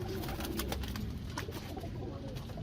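A Lakhi pigeon coos among other birds at a breeder's loft, soft repeated throaty calls over a busy background of fluttering and chatter.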